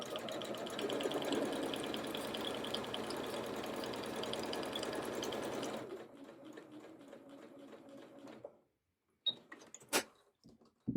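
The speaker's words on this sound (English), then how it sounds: "we'll do our second row of gathering stitches" A sewing machine runs a row of gathering stitches on a small doll dress, a steady fast whirring rattle that slows and stops, followed by quiet handling clicks.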